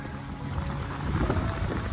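A sailboat cracking along at about 6.7 knots off the English south coast between Brighton and Rye, with steady rushing water and wind noise filling the clip, loud and continuous.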